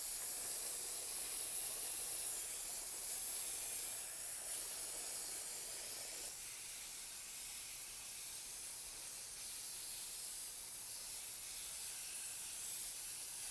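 A foam air filter for a Suzuki DR650 motorcycle is soaked with spray-on filter oil, giving a steady, soft, continuous aerosol hiss that carries on alone and at low level throughout.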